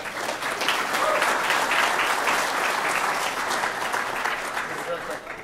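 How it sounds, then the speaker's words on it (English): An audience at a malware analysis talk applauds the incoming speaker, a dense, steady wash of many hands clapping for about five seconds before tapering slightly at the end, with faint background chatter. "Give him a hand."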